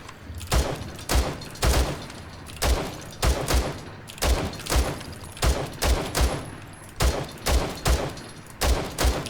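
Pistol fired repeatedly at a video game shooting range, a string of sharp single shots in small rapid clusters with brief gaps, loud and close, each ending in a short low thump.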